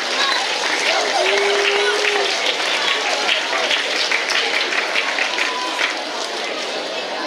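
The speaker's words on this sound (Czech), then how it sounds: "Ještě jednou velký potlesk pro tyhle kutnohorské borce." Loud, sustained crowd applause and cheering for a group of Kutná Hora pupils at a school marathon olympiad medal ceremony, a dense roar of clapping with chatter and shouts mixed in, filling the whole stretch.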